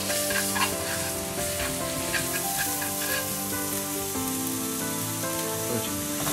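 Onions and potatoes stir-fry in oil in a wok with a continuous loud sizzle and crackle, steady and close, alongside a faint musical background.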